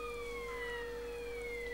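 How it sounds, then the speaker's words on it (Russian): Wailing video game emergency sirens from Grand Theft Auto: San Andreas, a fire truck and an ambulance, rise and fall steadily over a constant electronic hum, with no talking. "Там пожарка приехал, скорая."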